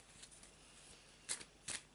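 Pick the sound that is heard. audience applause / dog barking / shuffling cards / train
shuffling cards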